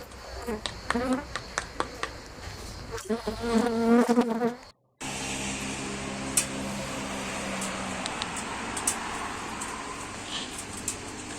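A huge swarm of honeybees at a large open-air hive gives a dense, loud buzz close by, with individual bees passing near and sharp snaps and handling noises near the start.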